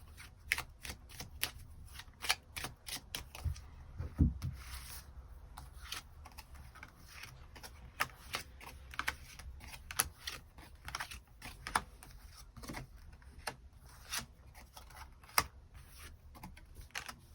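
Tarot cards being shuffled and drawn, close and quiet, with a long run of crisp, rapid riffling snaps and flicks in irregular bursts, no voices.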